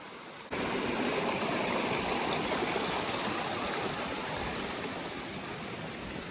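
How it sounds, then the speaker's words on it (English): A small stream on an Appalachian Trail hiking route flows with a steady, close, hissing rush of water that starts abruptly after a brief quiet moment and continues evenly to the end. "cross a small stream"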